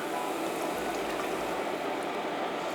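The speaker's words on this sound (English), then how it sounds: "I'm going to add more of our broth" Homemade turkey bone broth pours steadily into a pot, a dense continuous liquid splashing and bubbling at close range with no voices.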